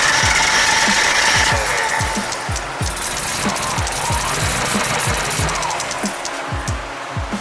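A Nissan S13 engine cranks without starting, a rhythmic, even chugging of the starter motor repeating steadily and close by after an initial whine.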